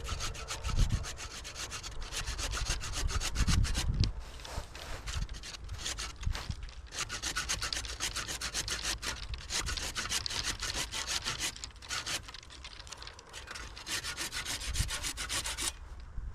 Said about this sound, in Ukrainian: цей всередину я повністю зараз ріжу